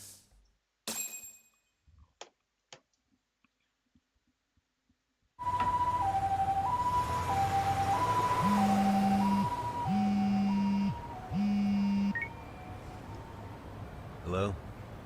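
An ambulance siren sounds inside a video game. It follows a few sharp clicks and some quiet, then cycles in a loud two-tone wail, with a deep pulsing thump under part of it.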